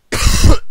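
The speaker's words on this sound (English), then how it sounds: "Sorry about the coughing there guys" A man coughs hard and close to the microphone in one long harsh burst, then starts a second cough right after.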